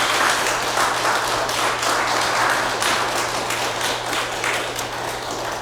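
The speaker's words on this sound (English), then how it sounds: "So another round of applause, please." Sustained applause from an audience at a congregation's annual meeting, steady and dense for the whole stretch with no pause or voice over it.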